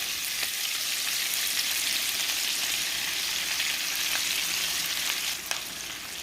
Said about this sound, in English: I'm just going to use that good bacon grease to fry up our cabbage